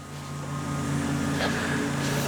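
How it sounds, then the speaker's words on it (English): A digger working outside at a neighbouring property gives off a steady low engine rumble in the distance, continuous and moderately loud for a couple of seconds with no talk. "I think they've got a digger out there or something."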